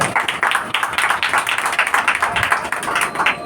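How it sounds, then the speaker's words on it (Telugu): A church congregation claps loudly in a quick, steady rhythm, many hands striking together in sharp repeated bursts that carry on without a pause. "గట్టిగా చప్పట్లు కొట్టండి"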